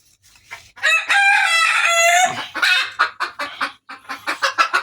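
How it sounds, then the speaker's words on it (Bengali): Chickens make a fuss around a hen sitting on duck eggs, with one long crow-like call followed by a rapid run of sharp, loud clucks, close by. "এই যে হাসির ডিম মুরগিতে বসিয়ে দিয়েছে, এখানে এসে সবাই গেঞ্জাম করতেছে।"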